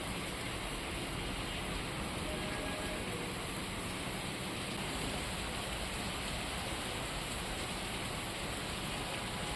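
Monsoon rain in Rajasthan's Behror, Bhiwadi and Alwar area, a dense, unbroken roar of downpour on surfaces, steady and loud for nearly ten seconds with no voices.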